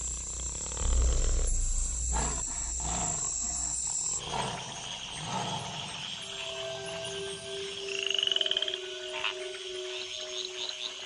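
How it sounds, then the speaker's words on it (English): Tree frogs call together after the rains in jaguar country, sustained tonal notes and a rising chirp layered over a low, rumbling wash of night ambience. "the tree frogs gather for bouts of communal cuckling."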